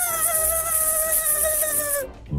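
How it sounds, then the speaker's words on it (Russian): A mosquito's thin, high-pitched whine drones steadily and close for about two seconds, then cuts off abruptly. "Вылетел комар в окно и запищал, что было сил."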